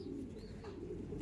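Racing pigeons entered in a one-loft race coo softly in a loft, a low murmuring hum that runs continuously beneath faint ambient noise.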